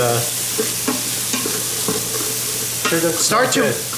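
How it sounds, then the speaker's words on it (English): Salted mirepoix sweats in an Instant Pot as a spoon stirs it, with loud close frying hiss and repeated scraping and knocking of the utensil against the pot. "I'm gonna start stirring these vegetables up and starting. I'm gonna start to sweat these veggies"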